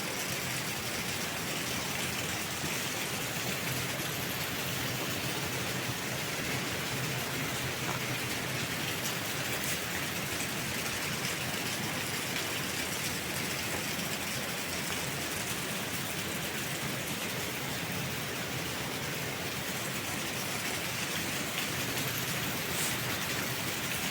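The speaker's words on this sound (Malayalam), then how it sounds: "ഇപ്പോൾ നല്ല മഴ വരുന്നുണ്ട്" Heavy rain falls in the misty Kakkadampoyil hills, a constant, even downpour hiss that holds steady for the whole stretch without letup.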